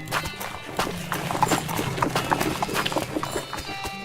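Steady hoof clip-clops of a horse in the video game West of Loathing, walking rhythmically at a moderate pace over a background hum, with a few faint clinks.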